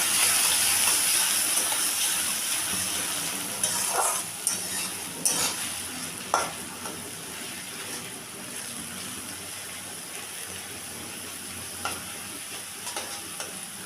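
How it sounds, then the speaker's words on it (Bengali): Chopped onion frying in a pan for a boal fish curry, a steady broadband sizzle with occasional scraping stirs and clinks, fading slightly over time, with no voices. "পেঁয়াজ কুচি একটু ভেজে নেবো"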